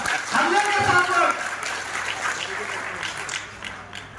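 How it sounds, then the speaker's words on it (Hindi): Audience applause at a team collaboration meet, loud and dense at first, then thinning and fading over a few seconds, with a voice briefly audible over the clapping. "इस कोलैबोरेशन मीट के लिए जोरदार तालियां हो, इतनी तालियां, इतनी तालियां, वो जोरदार तालियां"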